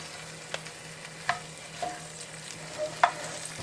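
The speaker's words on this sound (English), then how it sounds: "we're going to just kind of let this saute" Brussels sprouts sauté in a pan, giving a soft continuous sizzle broken by several sharp scrapes and clinks of stirring. The sound is moderately close and there is no talk.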